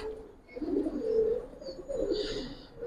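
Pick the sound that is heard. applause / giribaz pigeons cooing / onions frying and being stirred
giribaz pigeons cooing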